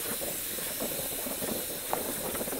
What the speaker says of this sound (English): So when you inflate the bubble, you do that with helium as well?